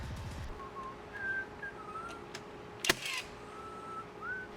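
A person whistles a loose, wandering tune in short phrases, fairly quiet, over a low steady hum, with a sharp click or knock partway through.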